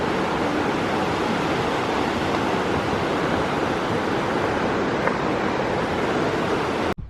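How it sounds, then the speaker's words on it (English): A waterfall in the Scottish mountains rushes with a steady, broadband roar that stays constant and loud until it cuts off abruptly at the end. "There's a waterfall."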